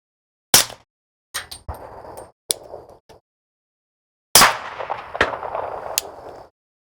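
Supersonic rifle rounds from Shell Shock two-piece case ammunition fire in several sharp, loud, close reports spaced a second or so apart, each with a short ringing tail, and silence between.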